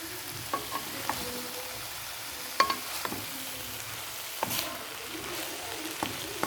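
Pork neck and sour bamboo shoots stir-fried in a pan for a Lao dish, with a soft steady sizzle and repeated sharp scrapes and clinks of a utensil against the pan.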